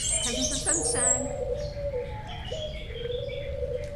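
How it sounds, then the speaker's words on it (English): White doves in an aviary bird exhibit at Niagara Falls, Canada, with soft cooing and chirps from several birds close by over a steady background hum. "Here we have white doves,"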